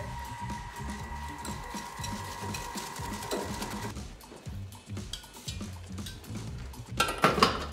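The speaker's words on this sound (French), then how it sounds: "À côté, je mets mes jaunes et mon sucre. Je vais mélanger avec un fouet." Egg yolks and sugar whisked by hand in a bowl, a steady metallic scraping and clinking of the whisk against the sides, fairly close and continuous with a brighter rattle near the end; no talking.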